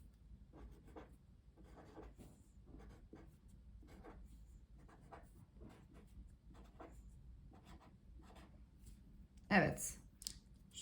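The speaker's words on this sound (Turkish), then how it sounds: "Şöyle bir çizgi çiziyorum ben." A pen scratches across paper in faint, soft strokes while numbers are worked out by hand. A quiet voice talks throughout, and a single brief, sharper scrape near the end could be one line being drawn.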